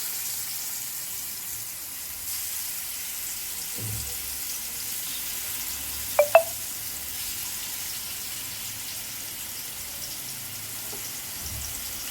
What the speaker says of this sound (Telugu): ఇటువైపు ఫిష్ని ఫ్రై చేసుకుని కర్రీలోకి ప్రిపేర్ చేసుకుంటున్నాను.